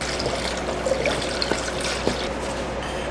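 Coolant pouring into the cooling system of a 2006-2011 Honda Civic during a thermostat and temperature sensor replacement, a steady close liquid pour with faint gurgling and a few small bubbling pops, no talking.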